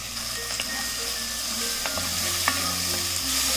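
Chopped carrot and capsicum fry with onion in a pan, giving a continuous sizzle broken by the clinks and scrapes of stirring, close and steady, with no voices.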